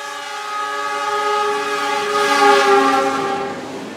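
A train sounds its loud, sustained horn as it passes nearby on a railway in Malang, Indonesia, the blaring tone swelling and fading over a rumbling rail background.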